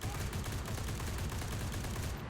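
A Lewis gun firing in the Enlisted video game: a steady, rapid stream of automatic gunfire with a dense rattling rhythm, sustained and fairly loud for the whole stretch, with no talk over it.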